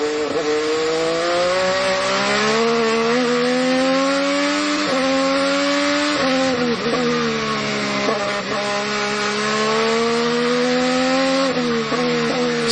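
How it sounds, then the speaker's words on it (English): An IndyCar race car in a modified Sebring round is heard on board, its engine screaming loud and close as the driver works the throttle, with pitch rising and dipping through gear changes and lifts around the wet track. "listen to him work the throttle as he goes around the track"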